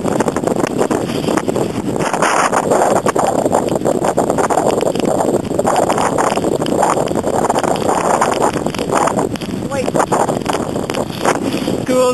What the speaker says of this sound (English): Blizzard in Rankin. It's not too cold, but it's pretty windy.